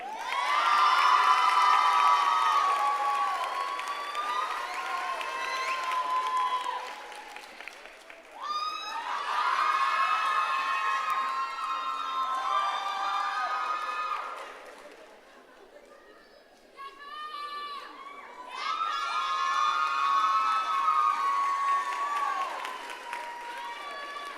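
A commencement crowd at the Harlingen School of Health Professions 2022 graduation roars with sustained cheering, whoops and shouts over applause, in three long waves with a brief lull between them.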